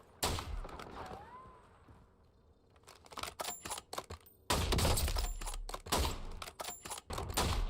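Gunfire in Warzone, a scattered run of sharp shots and rapid bursts, sparse at first then heavy and loud in the second half.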